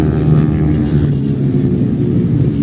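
Motorbikes pass along the busy 300 feet road at Purbachal, making a loud, continuous engine roar that stays close and steady without speech.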